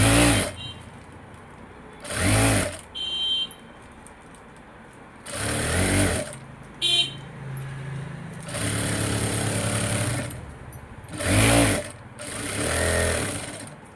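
A sewing machine runs double-stitch seams while finishing the back side of a garment, in four loud motor bursts of one to two seconds each separated by quieter gaps, with low handling noise between them.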